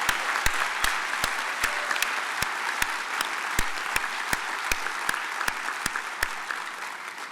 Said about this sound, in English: let's give the Orlando Police Department Color Guard a big round of applause